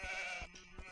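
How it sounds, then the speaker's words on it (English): Sheep bleat in the Age of Empires strategy game, a short wavering nasal bleat followed by a couple of softer pulses, close and fairly quiet. "just kind of scouting around with my sheep"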